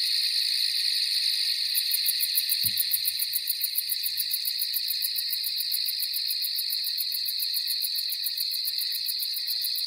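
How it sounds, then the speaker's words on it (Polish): A recorded grasshopper chirps in a rapid, steady high-pitched buzzing trill that pulses evenly and keeps going, with a single soft low thump partway through. "czy to jest pasikonik."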